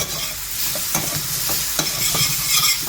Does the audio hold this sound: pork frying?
yes